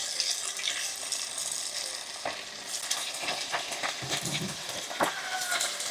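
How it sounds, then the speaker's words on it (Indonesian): Beef from the Manado rica dish fries in a black pot, a continuous close sizzle with occasional stirring scrapes, and no voices. "Lanjut kita akan goreng daging bebong dengan panci si hitam."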